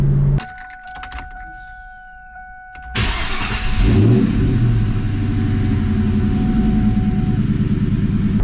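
A Ford Mustang with a new clutch being broken in starts up after a quiet, clicking interior, then its engine runs and accelerates with a steady, close drone inside the cabin.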